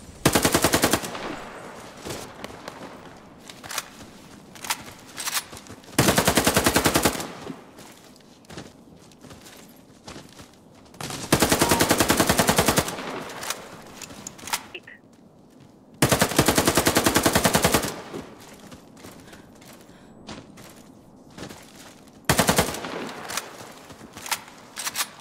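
Submachine gun fire from a Sten MK in the online shooter Warface, loud sustained automatic bursts of roughly a second or two each, repeated about five times with quieter gaps and faint movement between them.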